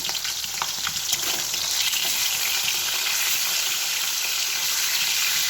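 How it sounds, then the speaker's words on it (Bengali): Fish frying in a kadai during preparation of a fish curry, a steady dense sizzle with crackling spatter throughout, close and fairly loud, with no talk. "আর এই যে মাছ ভাজা হচ্ছে এখানে।"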